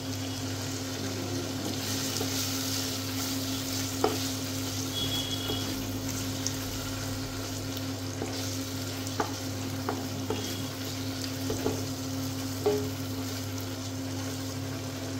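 Chopped tomatoes fry and get stirred in a pan for rural-style chicken biryani, giving a continuous close-up sizzle with scattered clinks and scrapes of the spoon against the pan.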